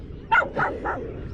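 A dog gives three quick, close barks in a short burst, evenly spaced and fairly loud, with no talk over them.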